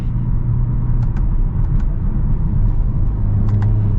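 Inside a 2023 Hyundai Kona N driving in sport manual mode in winter, a loud, steady engine and road drone holds throughout, with a few faint clicks over the rumble.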